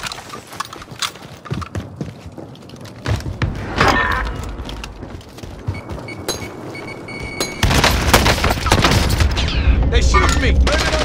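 Gunfire in the battle-royale shooter Warzone, loud broadband cracks and bursts scattered through the stretch and growing denser and louder toward the end, mixed with game ambience and occasional voice.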